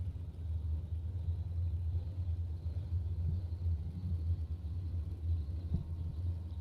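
Low, steady rumble of idling dragster engines at a drag strip, heard at a moderate distance with no one talking over it.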